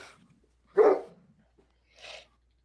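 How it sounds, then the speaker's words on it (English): A dog barks twice at a distance in an otherwise quiet room, one louder bark followed about a second later by a fainter one, with no talking. "Sorry for the dog."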